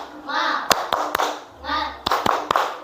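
A school class does a rhythmic spirit clap: sharp, loud hand claps in a quick pattern, broken up by bursts of children chanting along.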